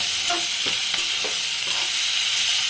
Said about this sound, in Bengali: তারপরে আলু আর নুন হলুদ দিয়ে চাপা ঢাকা দিয়ে এই যে ভাজা করলাম